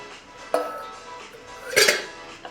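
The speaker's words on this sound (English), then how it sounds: "now we'll add the chayote and the green beans" Chayote squash and green beans go into a pot of simmering chicken soup, giving two sharp clinks and clatters against the metal pot, close and fairly loud, with quiet gaps between them.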